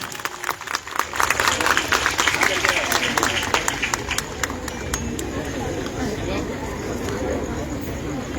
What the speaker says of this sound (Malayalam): നല്ല കൈയടി കൊടുത്ത് പറഞ്ഞുവിടാൻ കൂട്ടുകാർക്ക് കഴിയണം